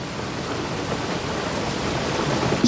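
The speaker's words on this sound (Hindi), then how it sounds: "लेकिन बाहर बारिश हो रही है।" Rain pours steadily outside as an even, hissing wash of noise with no voices.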